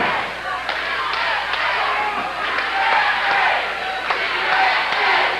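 Wrestling crowd cheers for The Patriot, a broad continuous roar with rhythmic chant-like swells and scattered sharp claps rising and falling throughout.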